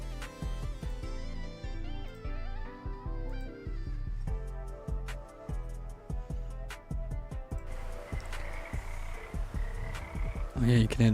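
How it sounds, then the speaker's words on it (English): Frogs croaking near a waterfall in Farming Simulator 25, a steady layered chorus of repeated croaks with insects faintly behind and game music and effects mixed in. "you can hear the frogs"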